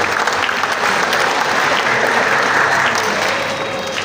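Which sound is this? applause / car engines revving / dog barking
applause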